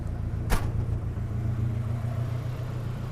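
A turbocharged car engine idles quietly and steadily, with a low, even rumble throughout and a single short knock or click near the start.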